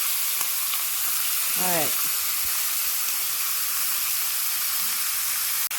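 Chicken frying in a pan: a steady, loud sizzle and hiss that runs the whole time, with a brief spoken remark early on.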